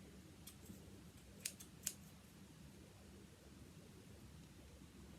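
A few quiet, crisp snips of scissors, two a bit sharper than the rest, against a faint hissing background.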